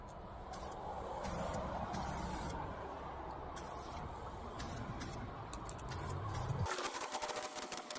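Steady hiss of an aerosol spray can painting a homemade flagpole, several sustained sprays with brief pauses over eight seconds, fairly close, ending in a few short bursts.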